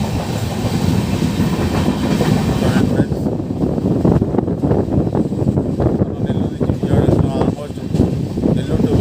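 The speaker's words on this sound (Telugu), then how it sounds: "మనం ఇప్పుడు ట్రైన్లో వెళ్తున్నామండి." The Vikramasimhapuri intercity train runs between Nellore and Vijayawada, filling the carriage with a loud, constant rumble and rhythmic wheel clatter, with voices mixed into the noise throughout.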